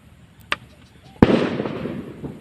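Firecrackers lit outdoors in a rice field: a small sharp pop, then a loud close bang that trails off into crackling and rumbling decay.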